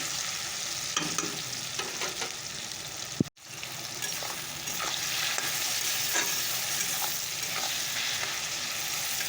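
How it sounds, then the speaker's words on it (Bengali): Onion, garlic, tomato and cumin fry in a pan with a steady soft sizzle and occasional stirring scrapes, briefly cut by a sharp click partway through, then the hiss resumes, with no talking. "জিরা সম্বার দিয়ে দিয়েছি পেঁয়াজ রসুন টমেটো দিয়ে দিয়েছি তো চলো এটাকে একটু ভেজে নেই"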